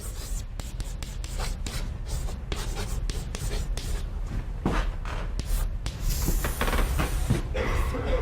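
Chalk or marker strokes on a board while drawing a diagram of the abnormal case, a steady run of rubbing, scratching marks close by, with no talk.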